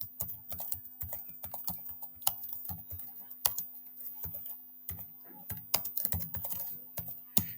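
Rapid typing on a computer keyboard, steady irregular clacks close up with occasional louder key strikes, continuing without speech over a faint constant hum.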